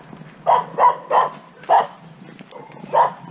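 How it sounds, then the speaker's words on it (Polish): A dog barks five times at moderate distance in a village in Poland's Beskid mountains along a hiking trail, sharp evenly spaced woofs over faint background hiss. "bo tu jeden agresor szczeka"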